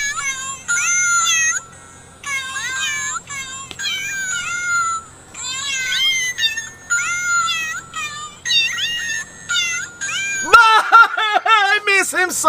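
Greeting card playing a tinny electronic cat meowing, repeated loud meows in a rhythmic tune close up, ending in a burst of rapid meows.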